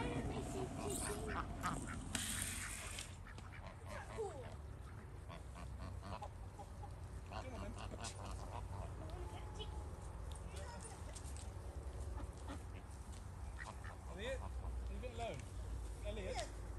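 Ducks quack and geese honk repeatedly in a busy outdoor flock, layered calls near and far over steady background noise and some talking.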